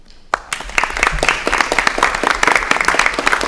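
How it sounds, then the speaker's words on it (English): After a brief hush, applause from a room of people erupts at a school board meeting in Hastings on Hudson, sustained dense clapping that stays loud and steady to the end. "So kudos to them, and give them a round of applause."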